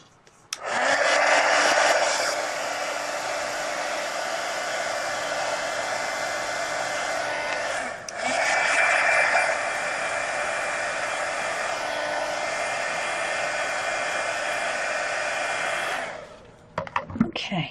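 A hair dryer dries a napkin-art page in a mixed media art journal, a steady loud whirring blow that runs for about fifteen seconds with a brief dip midway, then cuts off, with no talk.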